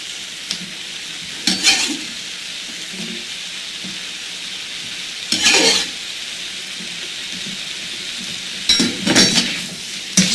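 Mango pieces fry in a pan for vegan fajitas, giving a low steady sizzle with three louder bursts of scraping and stirring spread across the clip.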